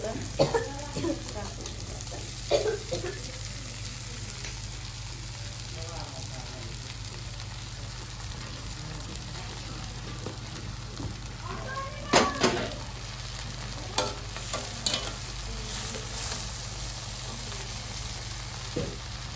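Poha fries and crackles in a pan, a steady sizzle broken by a few sharp scrapes and clinks of the spoon being stirred, with a low hum behind and someone talking at times.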